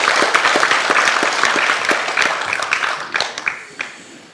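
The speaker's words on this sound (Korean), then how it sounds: "우리 박수로 크게 한번 환영하겠습니다" A crowd at a political party launch rally applauds to welcome guests, with loud, close clapping and distinct individual claps that taper off toward the end.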